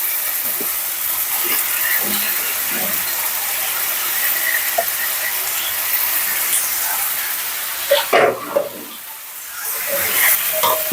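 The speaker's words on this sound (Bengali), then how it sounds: "আর আদা রসুনের সঙ্গে আমি মুরগিটা ভেজে নেবো একটু" Chicken pieces frying in a pan with ginger-garlic paste give a steady, dense sizzle that runs throughout, broken by a few clattering stirs and a brief lull near the end.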